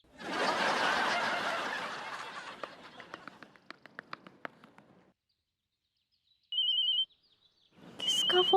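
A telephone rings in a comic household scene on an Indian sitcom. Two short, bright electronic ring bursts come after a stretch of laughter and snickering, with a brief silence between them.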